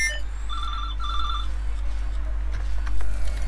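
A telephone ringing in the video game Watch Dogs 2: two short electronic trilling rings in quick succession over a low steady background hum.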